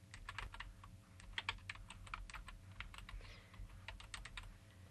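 Steady typing on a computer keyboard, a fast irregular patter of light key clicks, close and fairly quiet over a low background hum, with no talk.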